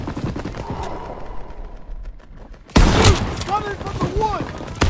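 Rifle and machine-gun fire crackles in Call of Duty WWII during the Battle of the Bulge in Germany, distant bursts at first, then a loud close volley with ringing ricochet-like whines and continued shots.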